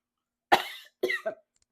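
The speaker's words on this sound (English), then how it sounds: "I also coughed as well." Two quick coughs, the second a double hack, close and fairly quiet against silence.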